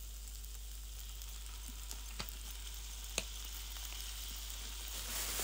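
Pepper rice with garlic fries in a pan, giving a steady, faint sizzle with a few light clicks of stirring and no talk.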